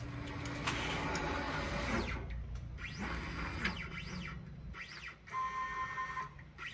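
A cutting machine's motorized table travels back to its zero position over sheet material in a heavy-machinery repair shop, giving a steady whirring drive with rising and falling stepper-motor tones, fairly quiet and alone.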